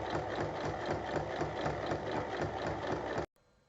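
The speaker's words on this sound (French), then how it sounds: "Et on fait une surpiqûre." A sewing machine runs at steady speed, topstitching a zipper onto a fabric tote bag, its rapid needle chatter close and even for about three seconds before it stops abruptly.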